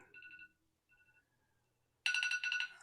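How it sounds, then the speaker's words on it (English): An electronic timer alarm chirps faintly in short beeping bursts, then a louder, denser ringing pattern begins near the end, with no voices over it. "I got an alarm ringing at me."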